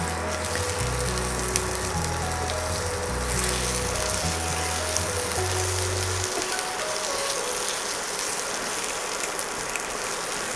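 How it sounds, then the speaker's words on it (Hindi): Onions caramelizing in leftover chicken-frying oil give a steady, even sizzle and crackle that runs throughout, with low background music over the first six seconds. "अब इसमें करेंगे हम अपने प्याज कैरमलाइज।"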